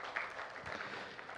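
A church congregation claps in a brief, soft, dense patter of applause that fills the whole moment, heard at a distance.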